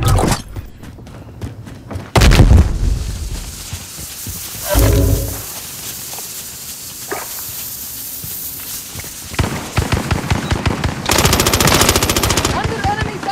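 Gunfire in Call of Duty: Warzone, with rapid machine-gun bursts, heavy thuds and scattered single shots close by, broken by quieter stretches, mixed with game voice callouts.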